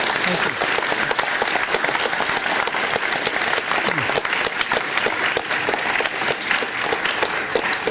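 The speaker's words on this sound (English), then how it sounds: "Let's give a big round of applause for Mr. Steve Jobs." Big applause for Steve Jobs from a community audience, a dense, continuous roar of clapping that stays loud and even for the full eight seconds.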